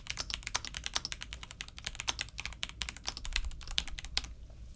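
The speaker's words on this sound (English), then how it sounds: "let's start typing on it, and I'll start with the WhiteFox just as the litmus test" Rapid, steady typing on an Apos Audio WhiteFox Eclipse mechanical keyboard fitted with quiet baby blue switches, dense clicky keystrokes running continuously and close up with no talking.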